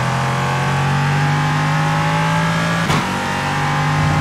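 A Ligier LMP3 race car in the iRacing sim holds a loud, steady high-pitched engine note on a straight, with a brief shift blip near the end and no talk.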